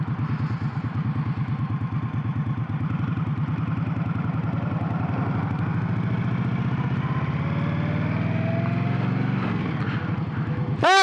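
Motorcycle ridden and shifted up through a gear, the engine pulsing steadily as it pulls, with one gear change partway through, close and fairly loud, with a short sharp burst at the very end.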